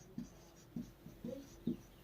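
Five or six short, evenly spaced pen strokes tap and scratch on paper as figures for a Class 10 electricity resistance problem are written down, each quiet and close.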